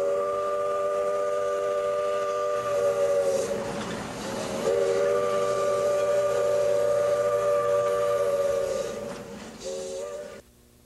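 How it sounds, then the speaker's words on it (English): Old Shay steam locomotives on the steep SJ&E mountain railway up Big Creek Canyon sound a loud, sustained whistle in long steady blasts with a short break between them, over a low rumbling background. "you can still hear the whistle of those old locomotives as they rattled and roared and squealed up the Big Creek Canyon"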